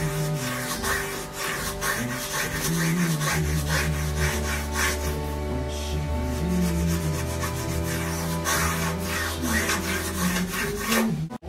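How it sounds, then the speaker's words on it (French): Emery cloth sanding the inside of a metal ring by hand, close up: quick rhythmic rasping strokes in a steady back-and-forth pattern, with a continuous low background hum and no voices. "c'est à l'intérieur de la palmette que je veux poncer"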